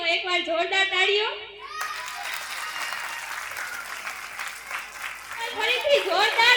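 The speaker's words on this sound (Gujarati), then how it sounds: "બધા રેડી હોય તો એકવાર જોરદાર તાળીઓ" Loud applause from an audience at a school annual day event, children's voices heard at the start before clapping swells and continues steadily, with voices rising again near the end.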